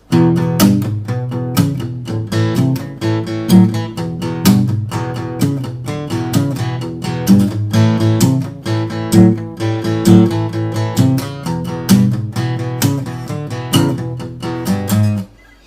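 Fingerstyle blues guitar in E with a walking bass line under plucked chords and licks, played continuously and close for about fifteen seconds, no voices.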